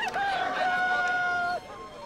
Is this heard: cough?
no